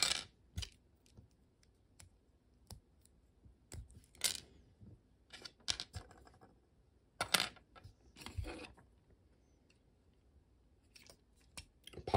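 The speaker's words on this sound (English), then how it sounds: "We'll just pop that part out. And then we have our replacement pieces here." Plastic parts of an HG Rick Dom Gundam model kit popping and snapping, sharp, close clicks and small clattering knocks scattered irregularly over a quiet background.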